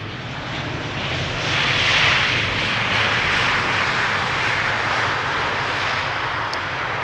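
KLM Boeing 737-800 jet arriving at Amsterdam Schiphol Airport, a sustained broadband engine roar that swells to its loudest around two seconds in and stays strong as it passes close by.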